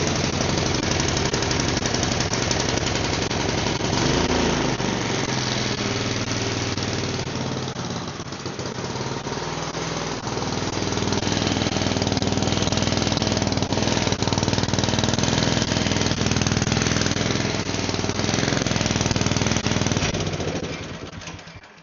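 A small petrol engine with a freshly replaced ignition coil fires up on choke and runs loud and steady nearby, a continuous rough, rapid chugging that holds for about twenty seconds before cutting out.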